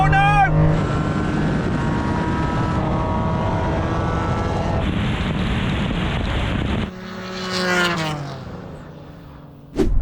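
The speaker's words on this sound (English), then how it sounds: "Come on, NSX! Come on! Oh, here comes the R34 now!" Drag race with a Honda NSX and a Nissan Skyline R34, a loud, sustained engine roar with rising and falling revs from cars passing close by, then a quieter gap and another surge of engine noise toward the end, with excited speech mixed in.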